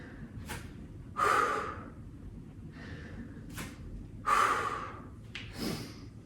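Heavy breaths during a yoga HIIT leg workout, drawn in and pushed out in a few strong bursts, close and fairly loud against a steady low background with no talk.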